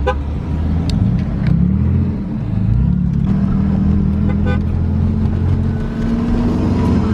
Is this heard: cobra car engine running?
yes